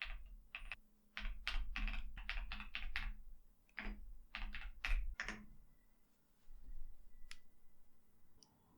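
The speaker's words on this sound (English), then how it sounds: "I'll go to the terminal and type in the following command." Bursts of rapid clicking as a command is typed on a computer keyboard into a terminal, close and crisp, with short pauses between runs of keystrokes and a few isolated taps near the end.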